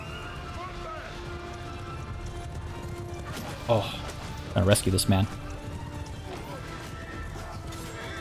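Horses gallop in a battle in Mount & Blade II: Bannerlord, their hoofbeats thudding in a short cluster amid battlefield noise while someone talks over it.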